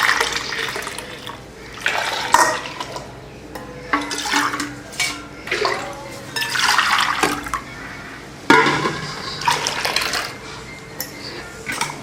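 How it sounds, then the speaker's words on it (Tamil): Water poured into a bowl of wheat flour while making Thirunelveli wheat halwa, splashing and trickling in uneven bursts that swell and fade, close by. "தண்ணி ஊற்றியாச்சு."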